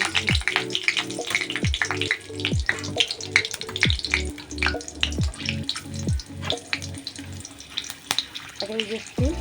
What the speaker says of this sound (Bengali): এবার আমি ফুলকপির পাতা ভেজে দেখাবো